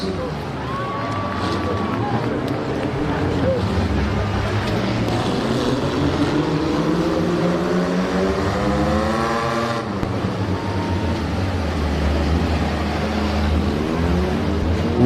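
Demolition derby cars run an autocross race with steady engine drone and rising, falling revs from several cars passing, under continuous announcer commentary and a crowd.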